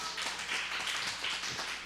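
A group applauds at a church youth Sunday service, a quick, even patter of many hands clapping at moderate distance for a couple of seconds.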